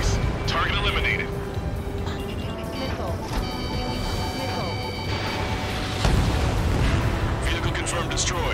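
Bombs explode in the combat flight game Ace Combat 7, with heavy booming blasts and crashes over a constant engine rumble, while radio voices speak over the action.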